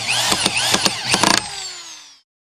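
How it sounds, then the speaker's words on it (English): A power drill whirs in several quick pulsing bursts while driving 3-inch screws into wooden cross-support studs for a halfpipe, then winds down and stops. "Secure the cross support stud with 1 3-inch screw to the deck leg and 3 3-inch screws on the other end"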